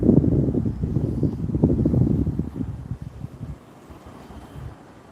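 Wind buffets a microphone outdoors, a heavy low rumble that gusts strongly for the first few seconds and then drops to a quieter, steadier rush.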